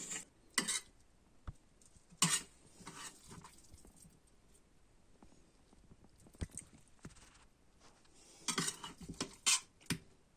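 A Turkish beet and squash vegetable dish being spooned onto a serving plate, with several sharp clinks and scrapes of utensil against pan and plate separated by quieter handling.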